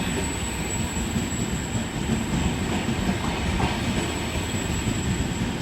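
A Trenitalia regional train rumbles through Venezia Mestre station, its wheels and carriages roaring loud and close in a continuous wash with faint squealing.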